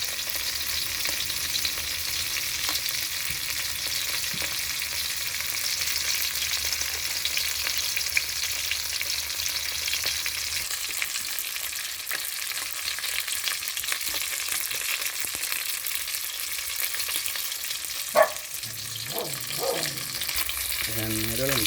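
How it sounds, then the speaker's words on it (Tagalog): Fish fries in a pan with a constant hiss and crackle, sizzling evenly for a long stretch, with a few brief clanks of stirring or handling toward the end. "yung prito natin isda"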